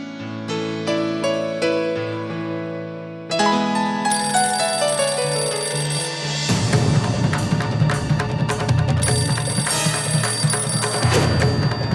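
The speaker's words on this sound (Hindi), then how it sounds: "फोन उठाओ" A telephone rings insistently, its bright electronic tone loud and continuous against a busy background.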